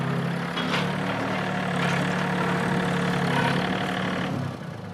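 Tractor engine idling nearby on a goat farm, a steady low mechanical rumble with even hum throughout, fading slightly at the end, no talking.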